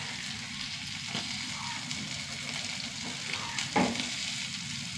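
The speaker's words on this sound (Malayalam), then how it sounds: "ഇന്നലത്തെ മത്തിയാണ് കേട്ടോ, ഒന്ന് ചൂടാക്കി എടുക്കണം." Leftover fried sardines, cooked the day before, sizzle softly as they reheat in a pan, a steady low frying hiss with one brief louder crackle near the end.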